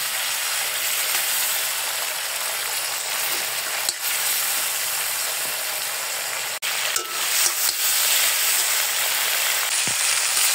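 Prawns fry in hot oil with salt and turmeric in a pan, a steady close sizzle with occasional stirring scrapes and clicks of a utensil against the pan.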